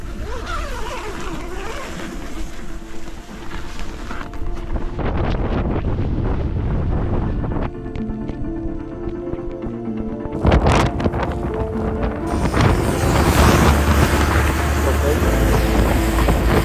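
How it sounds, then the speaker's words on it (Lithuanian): Strong Antarctic wind buffeting the microphone, a loud continuous roar with gusty rumbling bursts, and a voice is heard speaking during it. "Dar vėjuota"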